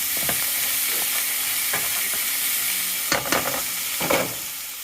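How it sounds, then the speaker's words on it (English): A frozen mango curry tofu stir fry sizzles steadily in a hot pan, a constant loud hiss broken by a few scraping stirs, with no talk. "So it's cooking and smoking since it's frozen."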